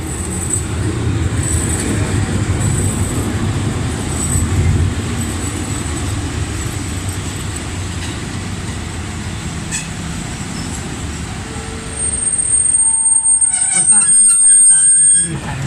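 A Hitachi diesel locomotive train passes through Samsen station with a loud, steady rumble of rolling wheels and engine that swells near the end, with high metallic wheel squeals and someone talking over it.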